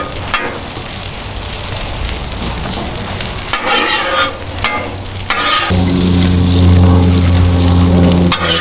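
Butter sizzling loudly on a hot griddle, a close steady hiss with a few bursts of stirring or scraping and a low hum building beneath it.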